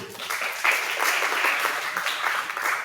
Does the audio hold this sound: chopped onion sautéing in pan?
no